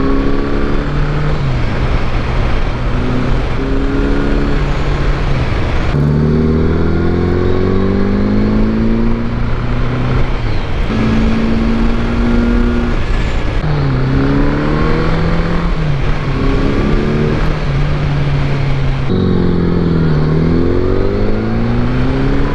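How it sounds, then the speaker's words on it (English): Motorcycle engine revving hard under acceleration, with repeated rising pitch sweeps as it climbs through the gears, loud and close throughout with no talking. "Man, it sounds so good when you get on the gas on this bike."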